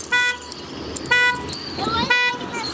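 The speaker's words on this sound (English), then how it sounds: "My car alarm going off over here." A turbocharged Camaro's factory car alarm going off at a drag strip, giving loud repeating electronic chirps and warbling siren bursts in regular cycles about a second apart, with someone talking over them.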